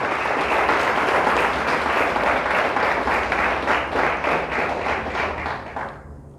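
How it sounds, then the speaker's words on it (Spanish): A church congregation applauds loudly and steadily for about six seconds during a Spanish-language sermon, dense clapping that swells and then tapers off abruptly at the end. "Dele fuerte el aplauso a Dios."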